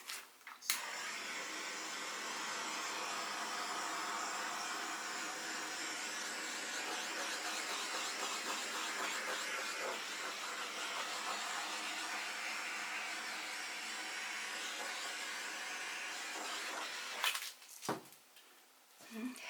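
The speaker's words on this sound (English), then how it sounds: "Let's give it a torch." A heat torch blows steadily over acrylic pour paint on a canvas, a continuous broad airy roar lasting most of the time, then cutting off near the end with a few brief knocks.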